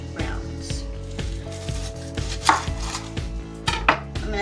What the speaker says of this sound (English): We're going to start our onion rings by slicing the onion into 1/2-inch rounds.